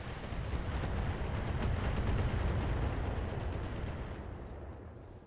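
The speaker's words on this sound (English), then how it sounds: "That was a few missiles." Missiles slam into a mech in the BattleTech video game, a loud, sustained rumbling barrage of overlapping blasts that swells and then slowly fades out.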